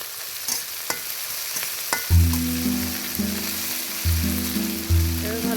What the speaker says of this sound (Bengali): এবার ভালো করে ভেজে নিচ্ছে।